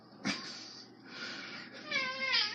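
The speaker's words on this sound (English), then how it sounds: "I see you, cat." A cat meows several times indoors during a live-streamed podcast, drawn-out, close calls with a rising, wavering tone, the last one longest and most tonal, with no talk over them.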